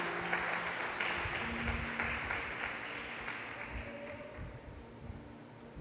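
A church congregation applauds throughout a Portuguese-language worship service, a faint, steady patter of clapping from a distance with no voices over it.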